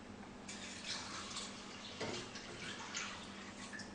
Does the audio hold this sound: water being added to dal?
yes